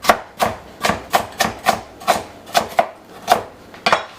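A knife chops carrots on a cutting board for chicken soup, about a dozen crisp, loud thuds in a fairly steady rhythm, close up and with no talking.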